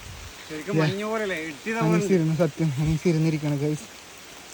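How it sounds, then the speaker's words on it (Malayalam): Heavy rain pours through the forest during a trek at Ayyarmala in Palakkad, a steady hiss running beneath a man's close, continuous talking. "ശക്തമായ മഴ പെയ്തുകൊണ്ടിരിക്കുകയാണ്."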